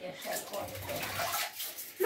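Children play and splash water in a bathtub, with light sloshing and dripping across the short span and their voices mixed in under an adult's nearby talk.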